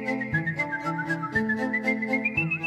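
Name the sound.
Fred Radix whistling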